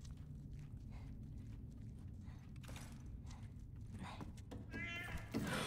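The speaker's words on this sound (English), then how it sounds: "Kitty! Cat." A cat meowing in The Last of Us: Left Behind video game, with faint rustles and thumps followed by a sudden louder meow near the end over quiet ambience.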